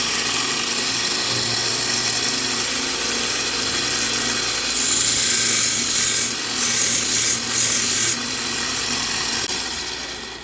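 Belt sander grinding Micarta knife scales with coarse grit on the unsupported part of the belt, a steady loud whirring rush with brighter surges as the workpiece is pressed in, fading slightly at the end.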